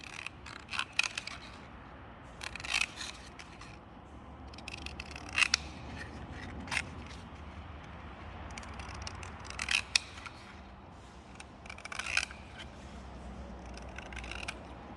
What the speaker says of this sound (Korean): 바깥을 가위로 먼저 오리는 거야.